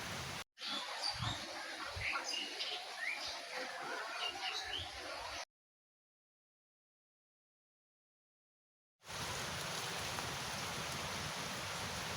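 Rain falling outdoors, a dense steady patter with birds chirping faintly, broken by a few seconds of silence before the downpour resumes.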